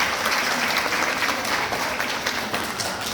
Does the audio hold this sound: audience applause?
yes